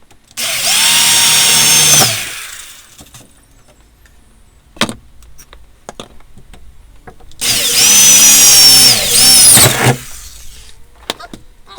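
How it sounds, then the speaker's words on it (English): A power drill whines in two bursts, each about two seconds long, drilling through a template while installing a van roof fan, separated by a quieter pause with small clicks and knocks. "drill a hole through the template to the outside"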